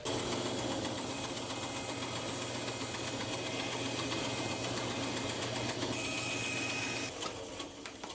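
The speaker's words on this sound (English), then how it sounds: "Metal cutting blade works fantastic on foam." A power saw fitted with a metal-cutting blade slicing foam for a helmet lining gives a steady, close mechanical whir with a humming drone that barely changes, easing off slightly near the end.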